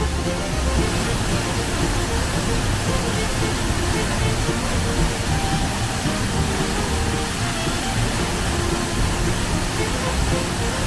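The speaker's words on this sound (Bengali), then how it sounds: "ঝর্ণার তোড় আজ প্রচন্ড, চোখের মধ্যে জল ছিটে ছিটে আসছে হাওয়ার সাথে।" Gundichaghaghi Waterfall in Keonjhar, running in strong flow, makes a dense, unbroken roar close by, loud and steady from start to finish, with a faint murmur of visitors beneath it.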